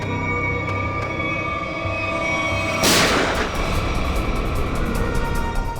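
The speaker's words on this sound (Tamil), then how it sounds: "எங்க இருந்து புல்லட் சத்தம் கேக்குது?" Gunfire during a tense standoff, one loud broadband blast bursting out midway through steady rumbling noise, followed by a denser crackling wash.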